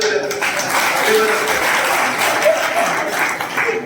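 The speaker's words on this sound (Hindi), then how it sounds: "ताली बजा बाहेर." An audience claps throughout, a steady crowd applause with some voices mixed in under it.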